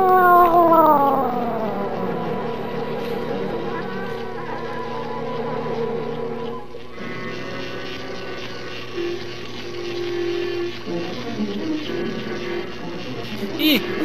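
A cat yowls and caterwauls with long, wavering cries in a 1950s B-movie scene about a woman transformed into a cat; a loud wail opens, then softer, strained meows follow over a steady background hum.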